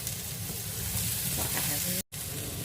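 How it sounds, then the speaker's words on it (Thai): Garlic frying in oil and butter in a pan, a loud dense sizzle running throughout, briefly cut off by a short dropout near the end. "พอเราคั่วนะคะ คั่วกับ น้ำมันแล้วก็เนยใกล้สุกให้เราใส่กระเทียมลงไปนะคะ"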